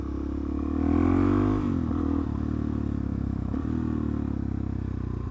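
A motorcycle engine runs steadily at moderate revs, its pitch dipping and wavering as it slows under engine braking, close and continuous.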